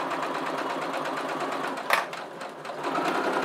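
A sewing machine runs a straight stitch along fabric in a steady, fast mechanical whir, close and continuous, briefly pausing near the middle before resuming.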